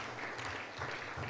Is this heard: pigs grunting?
no